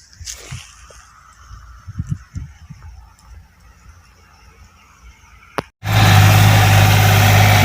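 Scattered outdoor sounds give way to an MF124 tractor engine that suddenly roars up and runs loud and steady with a deep, rumbling drone.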